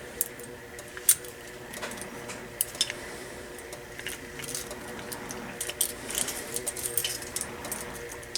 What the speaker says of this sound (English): I have a lot of keys on this thing.